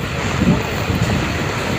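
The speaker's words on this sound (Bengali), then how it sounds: "দেখতেই পাচ্ছেন প্রচণ্ড পরিমাণে বাতাস এবং বৃষ্টি হচ্ছে বুড়িগঙ্গা নদীতে" Strong wind from Cyclone Remal with rain on the Buriganga river at Sadarghat, a steady loud roar of gusts buffeting the microphone over a low rumble of water.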